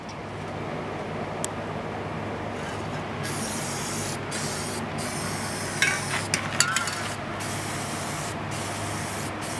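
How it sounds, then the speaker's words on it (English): Aerosol spray paint hissing steadily onto a rusty step bumper after sandblasting, a continuous close broadband spray with brief pauses and a few faint clinks near the middle. "Spray paint."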